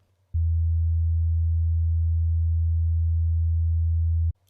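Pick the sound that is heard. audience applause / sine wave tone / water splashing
sine wave tone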